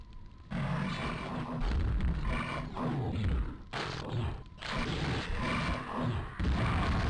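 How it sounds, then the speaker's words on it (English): Explosions and rumbling combat effects in the video game Quake come as several loud, booming bursts with roaring low-end growls, separated by brief drops in level. "Of course that explosion killed me."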